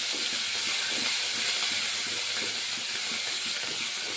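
Vegetables, curry leaves and coriander frying in hot oil in a pan for a curry, a continuous bright sizzling hiss with scattered soft pops, steady and close.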